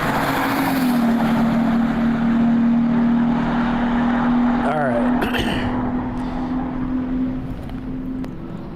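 Race cars in a ChampCar endurance race at WeatherTech Raceway Laguna Seca drone loudly and steadily, with a sustained engine note and a passing car sweeping through midway, all under a speaking voice close by.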